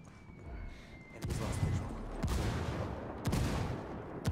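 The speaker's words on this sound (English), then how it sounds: "I'm getting mortared." Mortar rounds landing in the video game Ghost Recon Ghost War, heavy booming impacts at roughly one-second intervals over a low rumbling battlefield backdrop, moderately loud and fairly near, with no talk.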